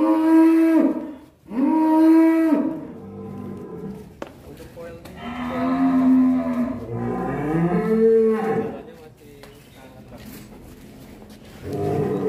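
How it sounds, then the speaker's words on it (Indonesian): A white PO cow lets out repeated loud, drawn-out moos, several in a row with short pauses, close by. Faint human voices are heard between the calls. "Sapi PO putih."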